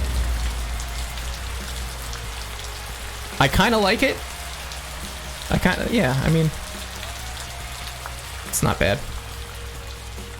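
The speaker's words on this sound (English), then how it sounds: "Ooh, there's a rain sound effect, though." Steady rain sound effect in the train simulator Trainz 2019, a constant dense patter with a low rumble running throughout, while a voice talks briefly three times over it.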